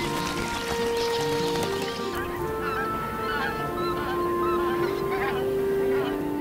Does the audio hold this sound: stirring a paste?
no